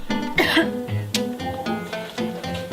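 Several harsh coughs in quick succession, close and loud, with throaty, strained bursts.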